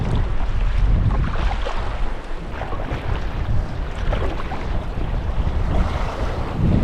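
Choppy waves slap and wash around a paddled boat on a Scottish loch, a steady close rush of water mixed with gusting wind buffeting the microphone, no voices.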